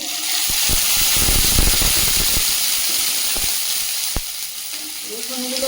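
Chopped green chili, ginger and whole garlic cloves fry in hot oil with a loud, dense, hissing sizzle. Stirring adds a rumble of scraping, and a few sharp pops follow as the frying settles slightly.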